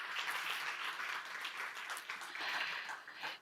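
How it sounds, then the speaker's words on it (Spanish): Audience at a round-table marking a tenth anniversary gives strong, steady applause, a dense even clatter of many hands that fills the whole stretch at moderate loudness. "fortísimo aplauso para todos nosotros y nosotras y los organizadores y organizadoras"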